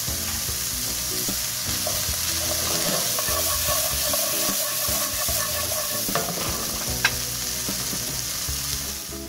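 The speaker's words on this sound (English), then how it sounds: "So sauteing them will get them going" Canned chickpeas sauté in a hot pan with a steady, close sizzle and frying crackle, plus a few sharp scrapes and clicks as they are stirred; no one speaks.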